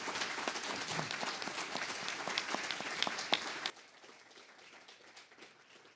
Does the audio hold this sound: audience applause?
yes